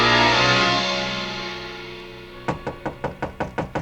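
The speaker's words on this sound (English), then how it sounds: "The knock surprised me." Someone knocks on a hotel room door, about eight sharp, evenly spaced raps close up, following a fading musical tone.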